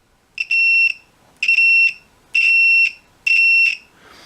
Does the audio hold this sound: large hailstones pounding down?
no